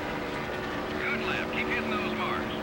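NASCAR race car engine at full throttle in the Nascar Thunder 2003 video game, a steady, loud droning roar with wavering pitch, running continuously and close.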